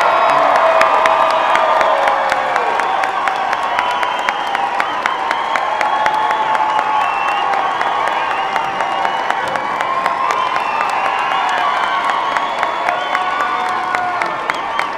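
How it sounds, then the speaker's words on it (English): A large commencement crowd applauds and cheers for graduates, sustained dense clapping with whoops and shouts, loud and continuous throughout. "would you give your graduates one more round of applause?"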